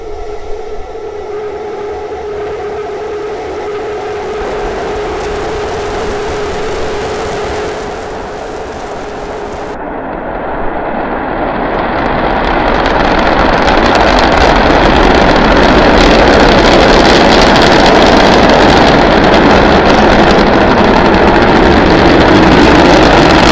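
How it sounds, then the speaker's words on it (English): Three Raptor engines firing as SpaceX Starship SN9 launches, a loud continuous rumbling roar that grows broader and more intense partway through and then holds as a dense, crackling wall of sound. "Plus 30 seconds, all 3 Raptor engines at power."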